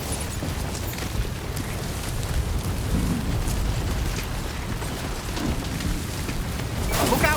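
In Death Stranding 2, a fire roars in a dense, continuous crackling rush with low rumbling, with a brief sharper burst near the end.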